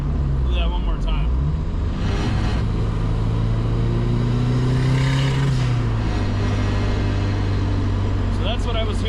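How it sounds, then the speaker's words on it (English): KA24DET-swapped Datsun 510 engine pulling under throttle in gear, a steady loud drone with rising pitch sweeps as the turbo spools and the wastegate opens, while a person talks over it. "the turbo was starting to spool, and it was opening the wastegate as early as possible"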